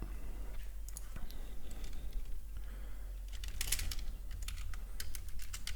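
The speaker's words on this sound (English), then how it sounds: "the typing you hear is just me alerting things" Light, rapid keystrokes on a computer keyboard clatter irregularly in bursts over a steady low hum, close and fairly quiet, with no voices.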